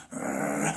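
A voice mimics a dog, producing a short, close, rough growl that sounds on its own without any talk.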